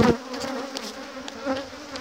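Honeybees at an open beehive keep up a dense, steady buzz close by, a continuous drone with small swells as insects move around the frames.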